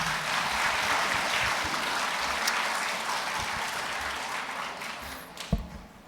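A wedding congregation in a church applauds as the officiant takes the stage. Sustained, even clapping from a sizeable crowd fills the room at moderate volume, with one sharper knock near the end.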